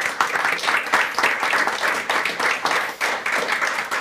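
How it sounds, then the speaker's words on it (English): Studio audience at a live creative-content show applauding, dense and steady clapping that fills the whole stretch, close and loud with no voices over it. "So please give yourselves a round of applause."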